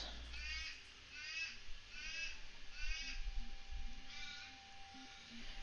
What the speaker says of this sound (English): I think the crows heard you